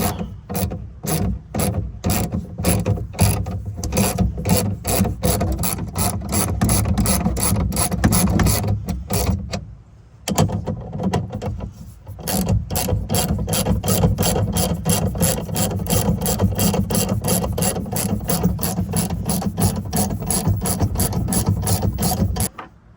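A ratchet wrench loosening 13 millimeter bolts on an F150 truck, loud rapid clicking strokes in long continuous runs with a brief pause midway, close up.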